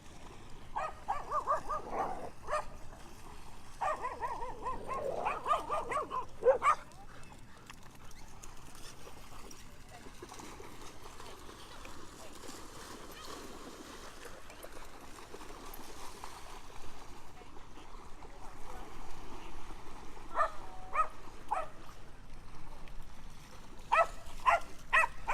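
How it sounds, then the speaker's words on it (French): A single dog barks in short repeated bursts at an outdoor dog park with many dogs around, the barking coming in clusters near the start and end over a steady ambient wash. "Il y a 40 chiens et c'est le seul qui aboie."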